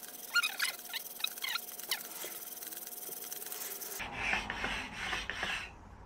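A whetstone surface being flattened by rubbing it with a dressing stone, a series of gritty rasping strokes close by, with a brief change in tone partway through before the scraping continues in a broader, rougher wash.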